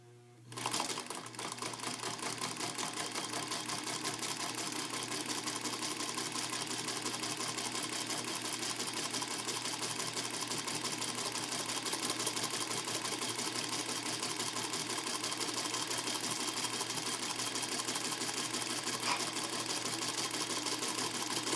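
Sewing machine stitching figure eight fagoting with a SingerCraft fagoter attachment, starting with a click and then running as a fast, steady, close mechanical whir and chatter throughout, no talking.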